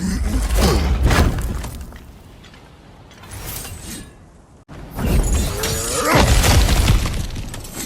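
Heavy crashes and shattering debris as objects are smashed apart in the video game God of War Ragnarok, two loud bursts separated by a quieter lull, with crumbling, splintering texture and deep thuds.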